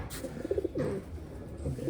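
Pigeons kept for sale give a brief, soft, throaty coo close by, a short run of low murmuring notes with no talking.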